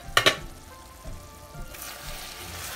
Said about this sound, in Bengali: আমার তরকারিটা কষে আসছে মোটামুটি হয়ে আসছে